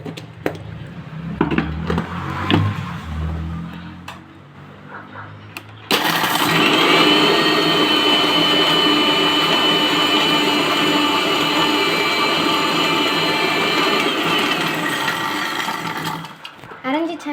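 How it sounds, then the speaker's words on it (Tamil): After a few seconds of talk and light clatter, a kitchen mixer grinder grinding broken rusk starts up with a loud, steady high-pitched whir that runs continuously to the end. "ரஸ்க்கு வந்து இது மிக்சியில் அரைச்சி எடுத்துக்கலாம்."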